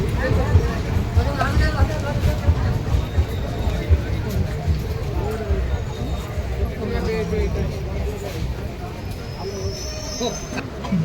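A crowded express train standing at Sainthia Junction station, with a steady wash of passenger chatter and platform bustle close by, low rumbling rail noise underneath and occasional faint squeals throughout.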